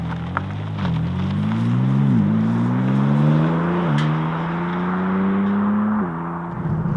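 A 2025 BMW M4 CS pulls out onto the road, its engine note droning and rising steadily through the gears with brief dips at each shift, loud and close from inside the car.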